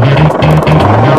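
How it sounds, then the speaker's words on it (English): The huge four-bladed tail rotor of a CH-53E heavy-lift helicopter, over 20 feet across, thunders close and loud with a steady, rapid pulsing beat. "Here, we're looking at the tail rotor of the CH-53 Echo."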